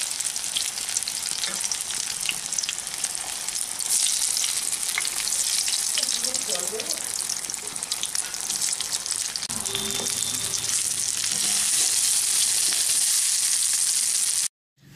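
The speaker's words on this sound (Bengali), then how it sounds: "এখন আমি এই বেগুনগুলোকে একটু বাদামি রং করে ভেজে নিচ্ছি।" Brinjal pieces fry in hot refined oil, a continuous loud sizzle with occasional stirring clinks and bubbling close by, ending abruptly.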